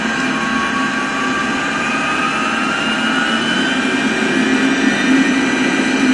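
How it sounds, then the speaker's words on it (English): Tupolev Tu-154M jet engines spool up in a flight simulator game, a loud steady roar with rising whine tones climbing gradually, heard alone with no voices. "wait for the engine to respond as it's doing, and smoothly advance the throttles all the way to the top"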